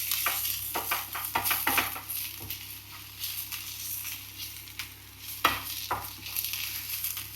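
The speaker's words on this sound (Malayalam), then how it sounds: "ഒരു സൈഡിൽ നമ്മളിതാ ഒണിയൻ ഫ്രൈ ചെയ്തുകൊണ്ടിരിക്കുകയാണ്." Onions fry in a pan on a low flame while chicken biryani is being made, a soft steady sizzle broken by scattered stirring clicks and scrapes close by.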